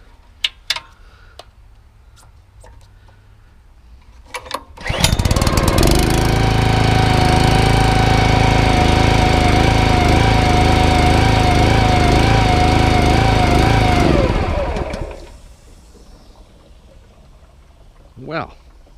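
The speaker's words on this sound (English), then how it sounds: "Reported engine is not running well." A Honda GX160 small engine on a spray rig, reported as running poorly and cutting out, starts up and roars loudly and steadily for about ten seconds before dying away, with a few clicks and knocks before and after.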